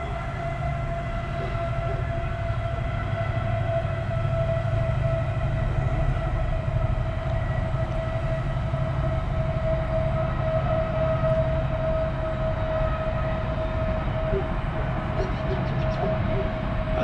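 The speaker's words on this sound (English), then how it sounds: "That's a very noisy train." A loud train rumbles steadily past near a flooded stretch of the River Cherwell, its broad low roar and sustained tonal whine holding throughout without letting up.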